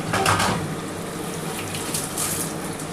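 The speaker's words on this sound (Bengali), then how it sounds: "জলটা দিয়ে দিলাম।" Water from a tap runs steadily into a pan coated with leftover spices while cooking chicken dak bungalow curry, a continuous close splashing pour with no talk.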